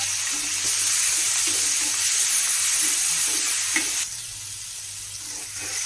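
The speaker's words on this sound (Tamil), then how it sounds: "இப்ப இந்த கொத்தமல்லியும் போட்டுக்கலாம். லைட்டா வதங்கட்டும், ரொம்ப வதங்க வேணாம்." Coriander leaves and garlic sauté lightly in a pan for coriander chutney, a steady close sizzle with soft stirring scrapes that drops slightly in level near the end.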